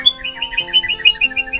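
A small bird chirps in a quick series of bright, high tweets in a steady rhythm, close and clear with no talk.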